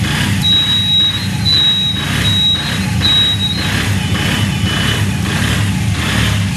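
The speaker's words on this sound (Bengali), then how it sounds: "এই বাইকটার ইঞ্জিন কন্ডিশনটা দেখেন।" A Honda 80cc motorcycle engine runs at a steady idle with a low, even rumble and slight pulsing swells, close by with no talk.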